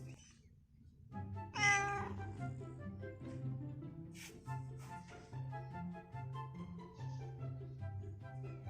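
A cat with scabies meows repeatedly in a steady, fairly close series of calls, while a low tonal hum or background drone runs beneath throughout.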